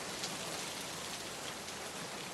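Heavy rain pours steadily, a dense continuous hiss of drops beating on surfaces with no voices.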